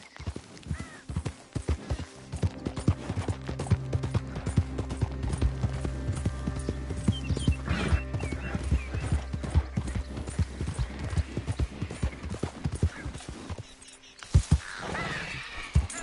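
Horse hooves clip-clopping at a steady gallop in the video game Red Dead Redemption 2, loud and close with continuous rhythmic beats, a brief whinny near the end and little talk.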